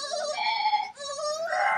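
A goat bleats twice in quick succession, close and clear, each call a wavering nasal cry with a brief break between them.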